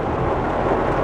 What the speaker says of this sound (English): It's crazy raining.